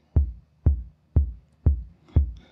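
Roland TR-808 drum machine kit playing a simple pattern: five deep, booming kick-like hits evenly spaced about half a second apart, close and clean, the last one layered with a brighter click.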